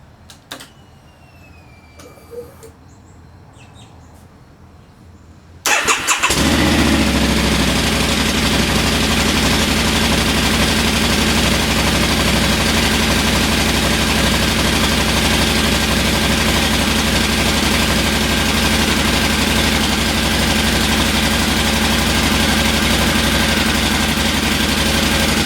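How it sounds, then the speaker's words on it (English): After a few quiet seconds of faint handling noise, a 2011 Harley-Davidson V-Rod VRSCF motorcycle fires up abruptly and settles into a loud, steady, rumbling idle that continues close by for about twenty seconds. "try to start the bike"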